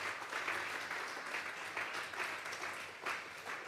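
A church congregation applauds at an evening Bible doctrine service, a sustained wash of many hands clapping together, fairly distant and even, with no clear voices over it.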